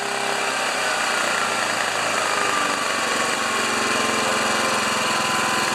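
An old machine's engine running at auto idle gives a steady, loud, continuous drone with an even mechanical hum and no change in pace, with no talking over it.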